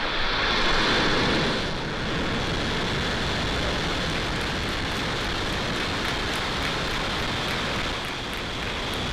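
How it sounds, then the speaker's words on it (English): A SpaceX rocket lifts off on the Transporter-3 launch with a loud, continuous rumbling roar that stays steady and dense throughout. "Ignition, And liftoff."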